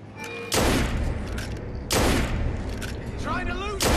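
Enemy gunfire in Assassin's Creed Unity, two loud, heavy musket blasts about a second and a half apart, each with a booming decay, while someone talks under the action.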